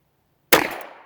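A single sharp, close gunshot from a Diamondback Sidekick revolver at an outdoor range, after a moment of quiet, with a short decaying echo.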